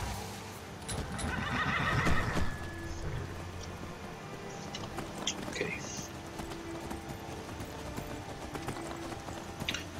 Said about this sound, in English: First of all, I need to call my horse.